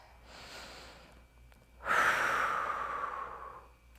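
A person breathes deeply during a hamstring stretch: a soft inhale, then a long, forceful exhale that slowly fades, heard close and alone.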